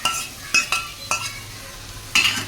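Garlic and onions sizzle in a frying pan while a utensil stirs them, with several sharp scraping clinks spaced across a steady, close frying hiss for a paneer shaak.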